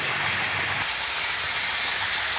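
A Tri-ang model railway locomotive runs with a steady, close hiss and a low rumble that drops away early on, leaving an even whirring hiss with no voices.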